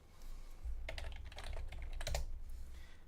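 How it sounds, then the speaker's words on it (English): A password being keyed on a keyboard, a quick burst of soft, close clicks clustered in two short runs over a faint background hum. "type in my password,"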